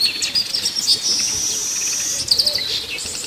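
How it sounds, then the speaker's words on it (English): Birds chirp and tweet in short bright bursts over a steady high insect-like hiss, moderately loud, with no voices. "the major streets in Boya were deserted with just the sound of birds"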